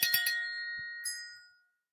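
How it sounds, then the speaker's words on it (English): A small sterling silver bell rings out with a few quick jingling strikes, then a single clear ding that lingers and fades to silence. "It's a sterling little bell."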